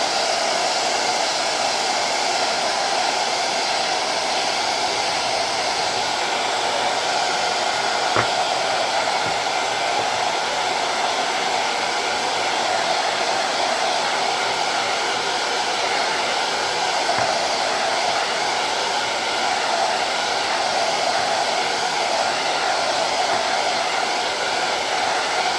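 A hair dryer blows steadily on gold paint on a thrift-store picture frame, a loud continuous whirring roar that stays even throughout with no talking.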